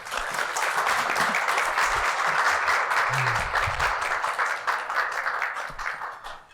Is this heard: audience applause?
yes